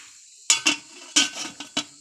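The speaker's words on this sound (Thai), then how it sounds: "ปิดฝาหม้อครับ" A cooking pot of Thai sour curry with frog and young tamarind leaves gets its lid set down after stirring, giving several close metallic clinks and clatters in quick succession with no talking.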